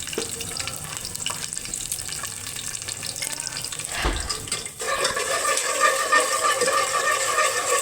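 Whole chillies drop into a pan of tomato masala frying on the stove, giving a steady close sizzle that grows louder and fuller partway through, with no voices heard.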